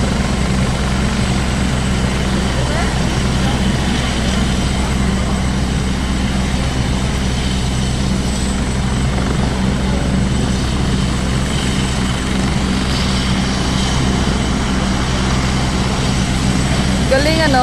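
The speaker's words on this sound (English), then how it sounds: "liit lang ng space ng helicopter na ito. Tapos nakapag-landing." A rescue helicopter sits on a tight landing spot in Wan Chai, Hong Kong, its rotor and engine giving a steady loud whir and chop throughout, with voices talking nearby.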